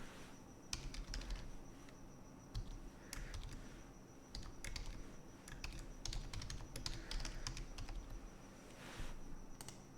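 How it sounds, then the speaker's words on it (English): Quick bursts of clicking keystrokes on a computer keyboard while writing Python code, irregular clusters of taps with short pauses between them, close but quiet, with no speech. "If I type in"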